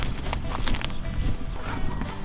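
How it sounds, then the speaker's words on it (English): Hooves of cows clattering and thudding close by on the ground as a herding dog drives them along, a busy uneven patter that goes on throughout. "Dog's getting a little bit better at herding these cows."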